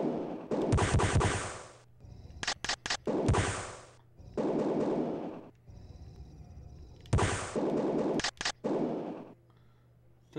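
Gun firing in a Philips CD-i video game, heard as loud bursts of rapid gunfire in several clusters, some long and sustained and others short stuttering volleys, with brief quiet gaps and a low hum between.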